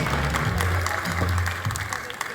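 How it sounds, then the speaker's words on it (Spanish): Audience applause for a group of girls from a foundation performing carranga music, a brief burst of clapping mixed with a low hum and crowd noise, fading slightly toward the end. "Fuerte el aplauso para ellas."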